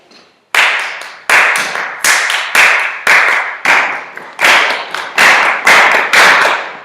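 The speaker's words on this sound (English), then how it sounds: "I'm going to clap and you guys are going to repeat after me" A class of students claps back a rhythm in unison, sharp crisp bursts of hand claps in short grouped patterns with brief gaps, loud and close in a classroom.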